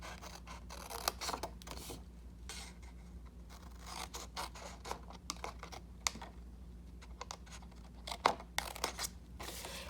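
Scissors trimming up the side of a paper Easter bunny treat bag: a run of quick, crisp snipping and paper-cutting clicks, close and fairly quiet, in irregular bursts over a soft background with no talk.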